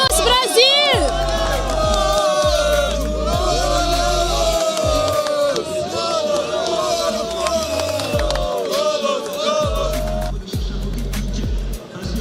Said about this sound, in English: We have people cheering here, Brazilians here, everywhere.